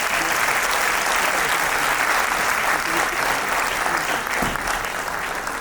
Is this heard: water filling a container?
no